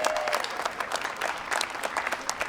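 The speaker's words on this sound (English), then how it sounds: "so give her a big round of applause." A crowd at an outdoor Pride flag raising claps in steady, dense applause, with crisp hand claps and scattered crowd noise throughout.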